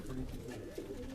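Pigeons cooing on a rooftop loft in Quetta, a low, murmuring coo running continuously, close and fairly soft with a faint voice mixed in underneath.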